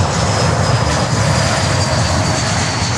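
A Porter Embraer 295 airliner at Miami airport gives off a loud, steady engine roar heard in the distance, a continuous broad rumble with no talk.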